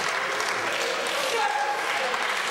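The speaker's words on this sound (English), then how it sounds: "This crowd is getting behind Dysfunction right here." A wrestling crowd at an ACW show cheers and claps in a dense, continuous wash of noise, loud and sustained throughout.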